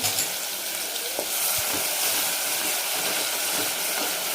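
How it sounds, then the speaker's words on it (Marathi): Ground masala for a mutton curry sautés in a pan with a steady, close, loud sizzle and occasional soft stirring knocks throughout. "आणि छान ह्याला पण परतून घेणार आहोत आपण"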